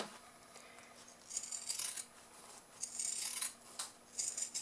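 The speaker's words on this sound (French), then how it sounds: "je vais découper l'excédent de tissu" Scissors snip away excess fabric around a sewn multi-pocket pouch in a run of quiet, close, crisp cuts with short pauses between strokes.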